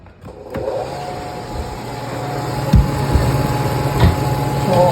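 An ice maker's fan motor, wired directly to power during a repair, runs with a steady close electric hum and whir, punctuated by a few brief clicks and knocks.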